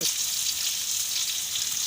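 Dried coconut (copra) dropped into a hot pan sizzles steadily and loudly for the whole stretch, a dense unbroken frying hiss while masala for Karnataka bisibelebath is being prepared.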